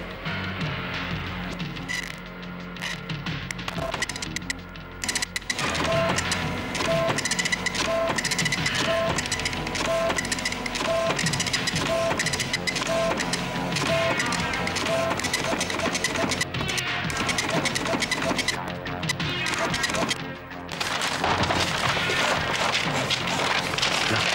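A printer prints out a document with a long mechanical run of whirring and regular rhythmic clunks as the paper feeds through, heard close and fairly loud.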